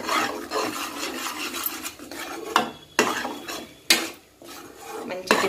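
A spatula scrapes and stirs a thick spice paste in a metal pan, with rhythmic rasping strokes and sharp knocks against the pan, close and clear with no talk.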